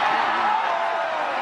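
The golf gallery at the 2022 U.S. Women's Open erupts in a brief, broad swell of cheering and applause, dense and fairly loud, fading slightly over about a second.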